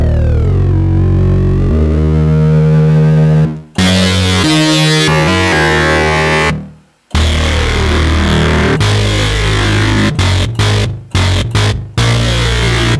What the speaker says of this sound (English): it sounds FM distortion